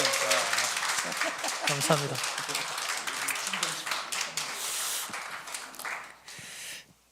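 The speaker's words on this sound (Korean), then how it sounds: "서 마이크 받고 설 때까지 계속 박수하는 겁니다" A church congregation claps and calls out to welcome a missionary, a dense wash of applause under cheering voices, thinning out after a few seconds until a short spoken thanks closes it.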